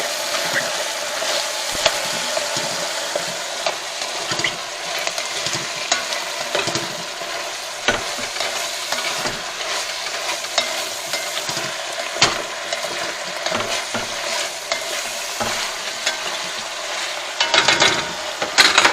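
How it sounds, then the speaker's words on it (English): Spices are stirred into spaghetti sauce in a pan, with continuous sizzling and frequent scraping, clinking strokes of a spoon against the pan, close and steady throughout. "And then give it a stir."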